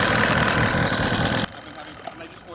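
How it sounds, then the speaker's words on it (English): A loud two-stroke gasoline outboard engine on a boat runs with a harsh, buzzing drone, then abruptly cuts off, leaving quieter background noise and a faint thump. "you have to add oil to a 2-stroke gasoline outboard engine"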